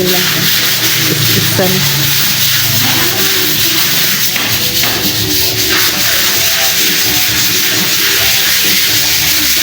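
Steady abrasive rubbing of sandpaper against a surface during home renovation continues throughout, loud and close, with a person speaking briefly over it.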